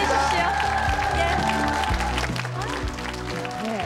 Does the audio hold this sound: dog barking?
no